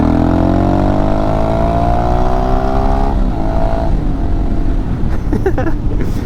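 A Honda Shadow 500 motorcycle engine revs close by, its pitch climbing steadily for a few seconds and then dropping back to a loud, rumbling idle.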